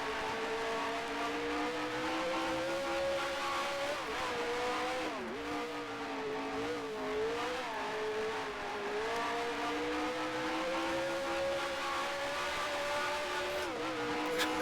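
A race car in the racing game GPL holds a steady engine drone with its pitch rising and falling through gear changes and corners, unbroken and moderately loud throughout, with no talk.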